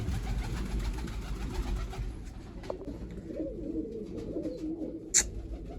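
Pigeons released singly from a loft, with steady cooing and a brief sharp flutter or call near the end, close and moderately loud, without speech.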